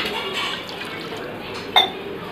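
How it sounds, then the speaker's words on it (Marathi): Water pours in a steady stream into a pot of tamarind curry made with gram flour, a close, continuous liquid flow ending in a brief splash. "आता अजून आपल्याला थोडं पाणी लागेल याच्यात"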